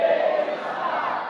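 A large crowd at an ISKCON temple gathering in Chowpatty chants Hare Krishna together in one loud, sustained, swelling shout that carries on without a break.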